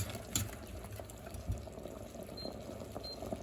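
Gravy bubbling at a low boil in a pot on the stove, a soft steady burble with occasional small pops, fairly faint and close, no talking.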